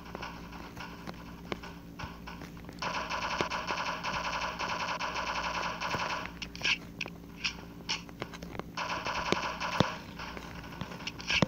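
Rapid automatic gunfire from the Block Strike video game crackles in dense bursts, pausing briefly and then returning in repeated volleys at a moderate, steady level.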